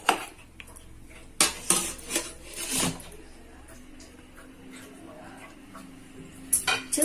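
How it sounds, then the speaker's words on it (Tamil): Metal clinks and clatters as lentil dumplings are set into an idli cooker, several sharp irregular knocks of steel plates close up, with quiet stretches between them. "இந்த உருண்டையை வந்து நான் இட்லி குக்கரில் வேக விடுறேன்"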